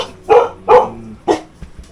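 Several Jindo dogs bark at a returning visitor, three loud, close barks in quick succession followed by softer yips, with no speech.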